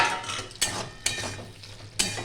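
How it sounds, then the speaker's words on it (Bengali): A lid comes off a cooking pot of sajne data aloo posto (drumstick, potato and poppy seed) on a medium-low flame, giving a few sharp metallic clinks over a soft, steady simmering hiss. "এবার ঢাকাটা খুলে নিচ্ছি"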